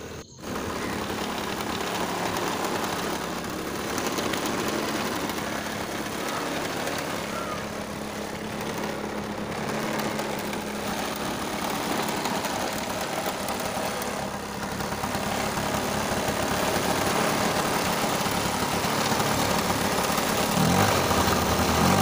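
A Bajaj Sunny scooter engine idles steadily after its air and RPM screws are set on the carburettor, a continuous close buzzing drone that runs unbroken and fairly loud throughout.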